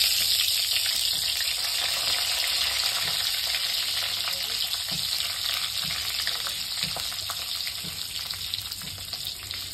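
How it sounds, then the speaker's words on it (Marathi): Stuffed capsicums (shimla mirchi) fry in hot oil, giving a loud, continuous close-up sizzle that holds steady throughout with faint crackles, and nobody speaks. "मी एक एक मिरच्या तेलामध्ये असं ठेवून घेणार आहे।"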